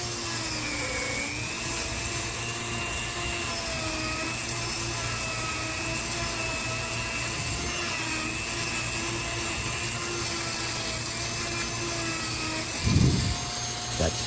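Power carving tool whining steadily as it cuts into a wood spirit carving, a continuous high-pitched motor drone with a brief louder bite near the end, no talking.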